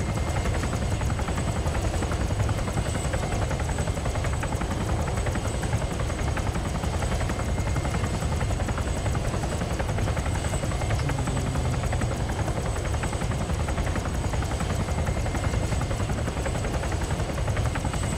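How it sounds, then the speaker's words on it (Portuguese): Helicopter in the video game ArmA 3 (Altis Life), a steady broadband rotor and engine drone holding level throughout with no talk over it. "Monta no helicóptero que vai atrás da gente agora."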